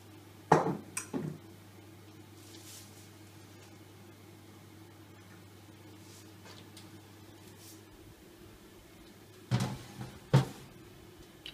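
Metal chicken tray set into a home oven for roasting: a few sharp clinks and knocks near the start, a quiet humming stretch, then more clatter as the door and tray are handled, with no talking.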